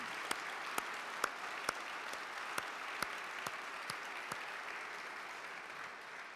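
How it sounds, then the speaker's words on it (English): A crowd at a reception applauds steadily for several seconds, with a few sharper individual claps standing out before the clapping thins toward the end. "So applaud those who are on my team."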